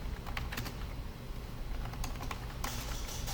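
Keys clatter on a computer keyboard during command-line Java programming work, a steady run of light, close taps with a denser burst of typing near the end, no voices.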